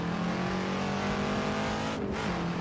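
Shelby Cobra engine in the racing game Assetto Corsa, a loud, steady, throaty drone held at high revs, with a brief dip around a gear change near the end and no voices.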